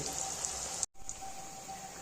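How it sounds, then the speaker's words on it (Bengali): Bread balls for veg balls frying in hot oil, making a dense, even sizzle with fine crackling that briefly drops out for an instant, then resumes steadily. "এইভাবেই সবকটা বলকে ছেড়ে দিয়ে আমি আগে ভেজে নেব।"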